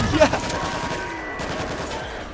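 A brief burst of rapid gunfire from the zombie shooter World War Z, with a dense rattle that is loudest at the start and continues steadily under fainter crackling.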